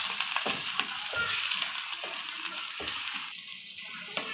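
Chicken pieces frying in a pan of hot oil during preparation of chicken daal mash, a steady broadband sizzle with occasional scraping stir strokes, close and continuous with no talking.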